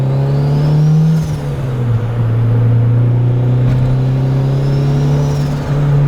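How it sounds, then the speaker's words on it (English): A widebody Honda Civic reverses out of a driveway, its engine a loud, steady low hum that rises slightly in pitch as it eases back, heard close and alone. "As you can see, we're about to back out of the driveway."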